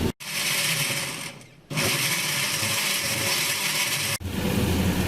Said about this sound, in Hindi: उसके साथ मैंने 6-7 हरी मिर्चें ले ली हैं, और हम इसको ग्राइंड करेंगे साथ में